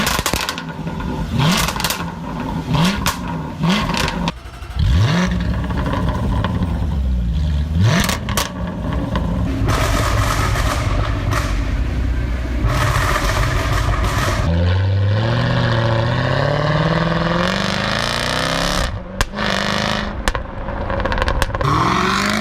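A Jaguar F-Type with a titanium exhaust revs and accelerates hard, engine roaring loudly with rising and falling pitch sweeps, crackles and pops between blips, filling the whole stretch close up.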